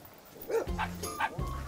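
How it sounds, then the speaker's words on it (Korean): Guard dogs barking on a farm, several close, sharp barks in quick succession with a faint voice in the background. "네, 저희 경비견들이에요"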